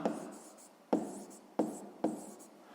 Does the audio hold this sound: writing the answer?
yes